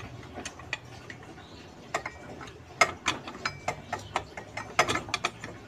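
A ratchet wrench tightens parts of a motorcycle CVT transmission, giving rapid runs of sharp metallic clicks in uneven bursts, close and loud, with no speech.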